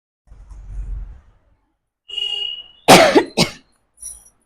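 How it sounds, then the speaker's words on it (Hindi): A child coughs twice in quick succession, sharp and close, after a faint low rumble and a brief high tone; the cough bursts are loud and stand alone without talk. "खांसी उठ रही है?"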